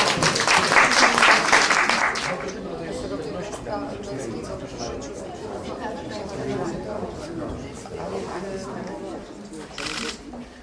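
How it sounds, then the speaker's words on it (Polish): Applause at a Warsaw high school ceremony named after René Goscinny: a loud burst of clapping for about two seconds, then fading into murmuring chatter and talk, with a brief flare of clapping near the end. "Myślę, że wielkie brawa"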